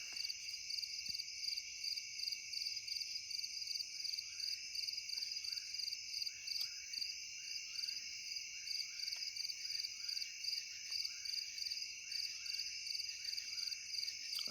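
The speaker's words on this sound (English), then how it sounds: "I can hear frogs and crickets." Crickets trill in dense, steady layers at night beside a woodland campsite, a continuous high shimmer with faint frog calls mixed far back and no voices.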